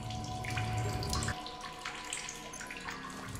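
Water splashing and trickling steadily while drinking in the survival video game The Solus Project, a quiet continuous wet gurgle with no talk.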